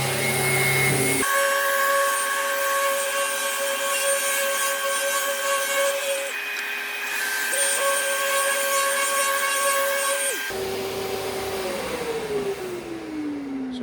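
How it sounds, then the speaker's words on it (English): A power sander fitted with dust extraction works over MDF at speed setting 3 to knock back raised grain, a loud steady whine that holds continuously, briefly shifts pitch midway, then winds down near the end. "speed turned down to 3 on the sander, dust extraction on to suck the dust away"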